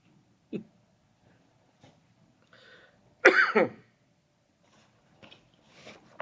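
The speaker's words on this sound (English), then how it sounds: "I just have a little bit of a dry cough" A single harsh, dry cough bursts out close by after a few quiet throat sounds, followed by faint shuffling.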